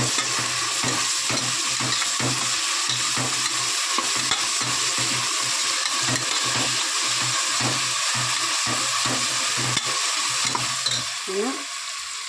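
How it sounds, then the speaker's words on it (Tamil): Onions fry in hot oil with a steady, close crackling sizzle, while regular rhythmic scrapes of a spatula stirring the pan repeat throughout. "எண்ணெய் காஞ்சிச்சு வெங்காயம் போட்டு"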